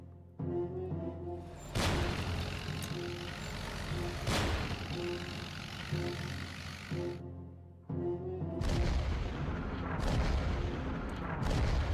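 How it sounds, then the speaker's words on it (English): Repeated bombing in the Hex of Steel strategy wargame, set in the North African campaign: heavy booming blasts and rumbling impacts over a steady loud din, with sharp bursts near the start and middle and after a short drop-off late on. "Repeatedly just bombing Fuka into oblivion here."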